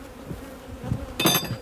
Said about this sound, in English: Because these bees are so unhappy right now.